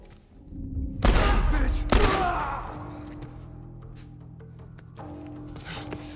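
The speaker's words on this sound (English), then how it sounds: "Gunshot!" Two heavy gunshot blasts in quick succession in The Last of Us Part 1, booming and loud, followed by a low rumbling ambience and faint clicks.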